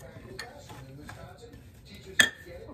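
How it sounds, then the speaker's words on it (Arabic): Mixing boiled egg yolks and sugar in a bowl for cookie dough: soft scraping with a few light clinks of utensil on the bowl and one sharper knock near the end, under quiet talk. "وغادي نبداو دابا كنخلطو في هاد المكونات هادي"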